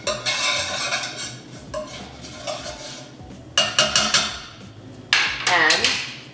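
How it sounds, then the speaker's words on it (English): Spices are stirred in a pot during Punjabi chana masala cooking, with a spoon clattering and scraping against the metal in irregular bursts over a soft background sizzle. "Give it a stir."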